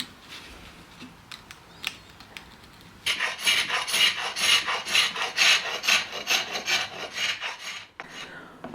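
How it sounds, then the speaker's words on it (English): Rough sanding of black paint on a mid-century base: after a few quiet scrapes, steady rhythmic rasping strokes begin, close and fairly loud, continuing for several seconds before stopping abruptly. "I always do a rough sand prior to application, and this gives the stripper a head start."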